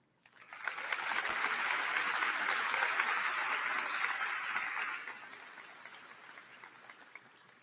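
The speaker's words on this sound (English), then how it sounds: "Let's give a round of applause for our class officers" A graduation audience at a high school ceremony bursts into applause for the class officers, a broad wash of clapping that swells quickly, holds for several seconds, then tapers off into scattered claps.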